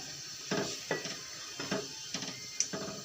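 Plum chutney ingredients are stirred in a pan, with a series of soft scraping strokes at an irregular, unhurried rhythm, close and fairly quiet, with no talking.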